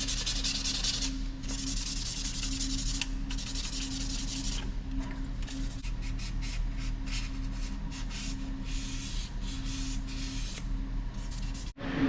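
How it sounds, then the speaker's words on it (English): Repeated rubbing strokes of 800 grit sandpaper on a hand-forged Damascus curved Bowie knife blade. The sound is a close, steady, rhythmic rasp with a constant low hum beneath it. "Now we do another 5 minutes, then we do 800 grit sandpaper."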